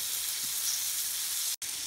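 Breaded chicken nuggets, the second batch already turned once, sizzle in oil in a frying pan, a steady, even crackle that carries on without a break apart from one brief dropout near the end.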